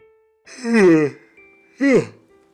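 Voiced yawn: a long drawn-out vocal stretch sliding downward, followed by a shorter sighing exhale, close and clear against a quiet background.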